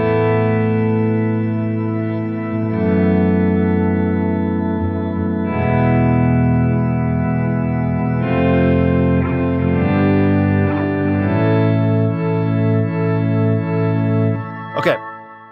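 An ambient guitar pad through dynamic delay on a Headrush MX5 processor: sustained, choir-like layered chords swell and shift every few seconds, with echoing repeats blending together, ending in a brief sharp accent.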